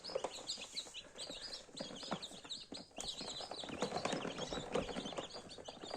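Many small chicks cheep busily and continuously, overlapping high peeps with occasional soft clucks, fairly close and quiet.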